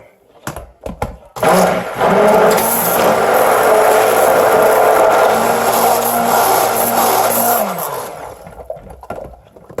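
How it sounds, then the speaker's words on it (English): A stick blender whirs steadily through soap batter in bursts, loud and close, with a mechanical hum running for several seconds before cutting off. "Putting my stick blender a little bit."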